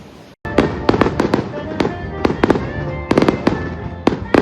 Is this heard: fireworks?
yes